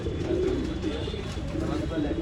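Old line pigeons at a pigeon sale in Bangalore coo softly and steadily, close by, over continuous background hum and murmuring voices.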